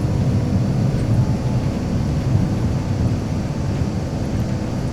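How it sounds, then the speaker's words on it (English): A flight video game aircraft taking off, heard as a steady, dense engine roar with rumbling, wind-like noise that stays loud and even the whole time, with no voices. "what a rocky takeoff that is"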